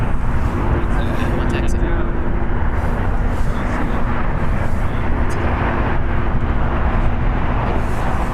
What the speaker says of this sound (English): Alaska Airlines Flight 286 going to EWR. It's an Airbus A321neo.